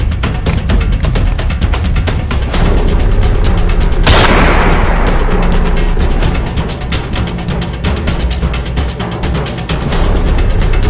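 A loud, rapid string of gunshots rings out nonstop in a dramatized confrontation, with one heavier boom partway through trailing into a brief rumble before the rapid fire carries on.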